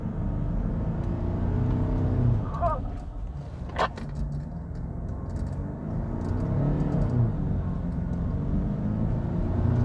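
Off-road 4x4 SUV, a Jeep Wrangler Rubicon or Land Rover Defender, labours up a steep slope with a steady, loud engine rumble that swells and strains throughout, one sharp clunk partway through, and no voices.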